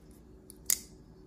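Spyderco Shaman folding knife with titanium scales, its blade dropping shut; one quiet, crisp metallic snap stands out against a near-silent background.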